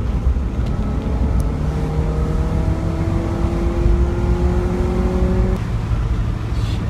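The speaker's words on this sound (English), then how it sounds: "Give it a little gas." Someone revs a car engine that has been lightened by stripping parts and removing the sunroof. It gives a loud, steady drone with pitch climbing smoothly, then drops off near the end.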